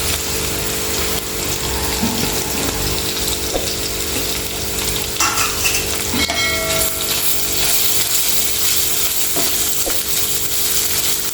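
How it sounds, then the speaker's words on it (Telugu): Curry leaves and ginger paste fry in a pan of oil for an onion egg curry. A loud, steady sizzle runs throughout, broken by occasional metallic clinks and scrapes of a spoon, with no talking. "ఆకులు కూడా ఇట్లా మంచిగా ఫ్రై అయినాయి కదా మనం ఇప్పుడు అల్లం పేస్ట్ వేసుకున్నామండి"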